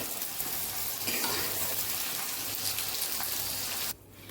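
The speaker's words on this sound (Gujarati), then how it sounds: "અહીંયા આપણા ભીંડા સરસ તળાઈ ગયા છે" Okra fries in oil with a loud, dense crackling sizzle like heavy rain, suddenly quieting at the very end.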